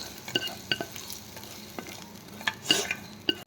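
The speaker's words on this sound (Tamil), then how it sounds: "ஒரு இருபது முந்திரி பருப்பு அதில் போட்டு நல்லா வதக்கிக்கணும்" Cashew nuts being sautéed in a pan, a soft sizzle under a series of light scraping stirs from a spoon, quiet and close with no voices.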